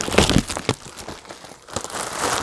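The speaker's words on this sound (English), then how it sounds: "take the plastic bag off" Plastic crinkles and rustles loudly in several bursts as a bag is handled and pulled off a Levoit Vital 100S air purifier filter, with a brief quieter pause in between.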